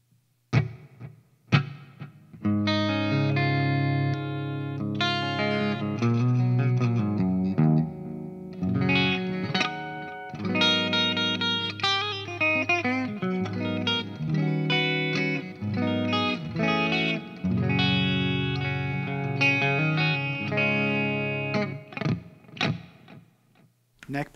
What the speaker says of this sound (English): Let's check out a little bit of reverb and echo.